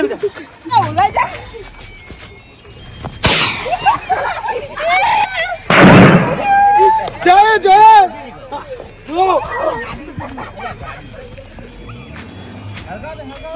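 Firecrackers burst loudly in two sharp cracks a few seconds apart, amid excited, overlapping voices of people talking and shouting nearby.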